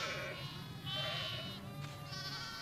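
Sheep bleat at lambing time, with several overlapping wavering bleats close by over a farmyard background.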